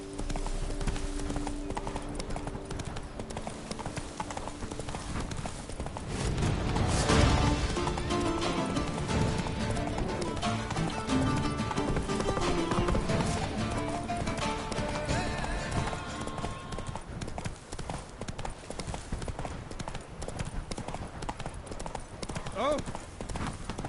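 Roach, the horse in The Witcher 3, gallops with a rapid, steady clip-clop of hooves, joined by bursts of game sound effects and crashing midway, with speech over the hoofbeats.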